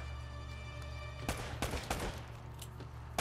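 Gunfire bursts in the Uncharted video game, several loud sharp shots and short volleys in the second half over a steady droning game soundtrack.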